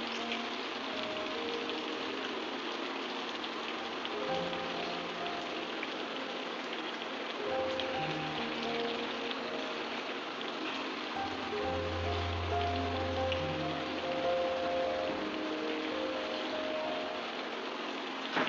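Prawn fritters fry in hot oil, giving a continuous close bubbling sizzle like steady rain, with faint low thuds and a few tonal clinks underneath; nobody speaks.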